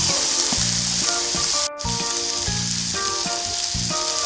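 Chicken for lemongrass chicken being returned to a hot wok, a loud, dense, continuous frying sizzle with a brief break partway through, close and unaccompanied.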